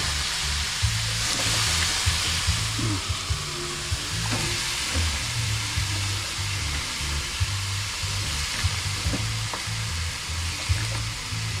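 Eggplant frying in a pan for Filipino adobong talong, a steady close sizzle and crackle with occasional stirring scrapes and clinks throughout.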